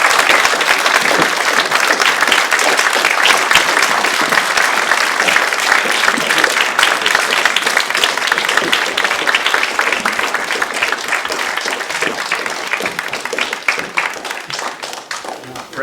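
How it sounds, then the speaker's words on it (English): Sustained loud applause from an audience at a university teach-in at Dartmouth, dense continuous clapping lasting throughout and tapering slightly toward the end. "Everyone, please join me in giving a round of applause."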